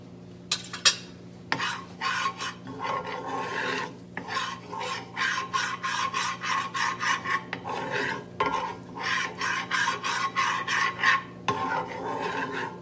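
Stirring and mixing cornbread dressing in a pot, a close rhythmic scraping and rasping of a utensil against the pan, repeated strokes continuing steadily with occasional clinks.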